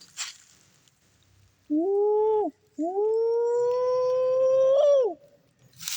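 Two sustained, slightly rising whistle-like tones, the second long and steady, blown close with a breathy hollow quality and brief silence between.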